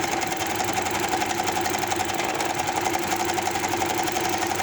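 A sewing machine stitches a cotton baby hoodie, a fast even mechanical whirring with a rapid steady rhythm, close and continuous.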